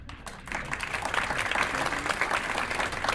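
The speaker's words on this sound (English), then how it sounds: "Clap it up if you're a couple." Audience at a live stand-up comedy show in Johnstown, New York clapping together, a dense sustained wash of applause building after a brief quieter start and holding steady, close and fairly loud.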